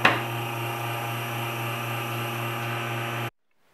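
Sandpaper pressed against a roughly 5 mm thick wooden bowl spinning on a lathe gives a steady, even whirring hiss with a constant motor hum underneath, holding for about three seconds before cutting off abruptly into silence.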